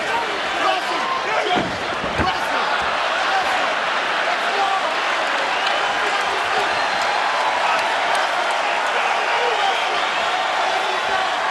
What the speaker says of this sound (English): Crowd getting behind these athletes here in the waning seconds of this one